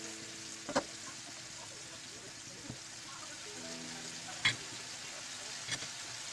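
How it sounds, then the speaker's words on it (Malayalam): Marinated chicken pieces frying in hot oil for restaurant-style chicken fried rice give a faint, steady broadband sizzle, with a few soft clicks and clatters of a utensil scattered through. "നമ്മൾ ആ ഓയിലിലേക്ക് നല്ലതായിട്ട് മാർണിഷ് ചെയ്ത് വെച്ചിരിക്കുന്ന ചിക്കൻ ഇട്ട് കൊടുക്കുക."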